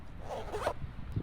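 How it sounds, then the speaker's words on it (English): A venting zipper on KLIM motorcycle pants being pulled in one quick, close, quiet zip, with no talking. "the location of these venting zips are different on the Artemis"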